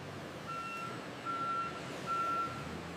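Forklifts and trucks moving candy shipments through a warehouse sound three evenly spaced electronic reversing beeps over a low engine rumble, moderately loud and without speech.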